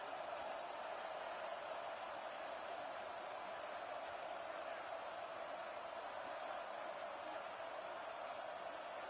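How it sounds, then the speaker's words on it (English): Steady, dense roar of a stadium crowd at a football game, loud and unbroken throughout with no distinct claps or peaks, a broad wash of massed voices filling the space. "Listen to this crowd just shaking the girders of this place"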